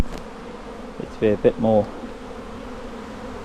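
Bees swarming around a hive during an inspection, a steady low hum of many insects throughout, with a brief burst of nearby talk in the middle.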